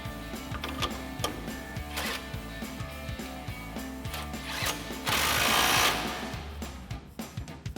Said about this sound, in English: we'll grab our 21mm wrench and our 24mm socket on our impact to tighten this back down